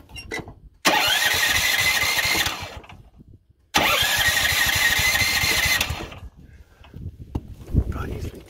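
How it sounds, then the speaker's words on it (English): A Yerfdog 420cc go-kart engine with a new exhaust fires up in two loud, raspy bursts of about two seconds each, cutting out between them, then settles into quieter rumbling and knocks. "I'll let you guys listen to it with the new exhaust"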